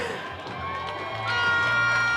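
Crowd cheering for a cheer squad at a Batch 155 passing out parade, a steady roar of voices that swells louder partway through, with shouts and whoops rising over it.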